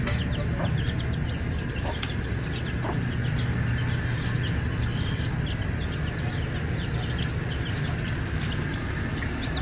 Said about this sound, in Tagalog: So ayan ang ating mga manok.